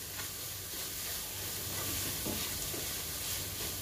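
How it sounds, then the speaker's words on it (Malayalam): Masala with half a teaspoon of garam masala and green chillies sautéing in a pan for bread masala, a steady close sizzle with scattered scraping stir strokes and no talking. "ഇനി ഇത് നന്നായിട്ട് ഒന്ന് വഴറ്റി കൊടുക്കണം."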